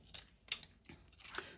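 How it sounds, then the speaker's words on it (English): Scissors snip through a folded paper gift card envelope, a few short, crisp cutting crunches and blade clicks, close and fairly quiet in a still room. "We're just going to take our scissors."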